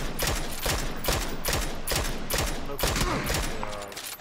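Automatic gunfire from the shooter game PUBG fires in a loud, rhythmic rapid burst, evenly spaced shots pounding close for several seconds before easing off near the end.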